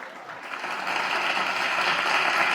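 Applause for the children at a kindergarten graduation: a steady wash of many hands clapping together that swells slightly and holds, fairly close and unbroken.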